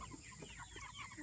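Chickens cluck softly in a backyard poultry cage, a faint, busy scatter of short calls over steady background hum, with no talking.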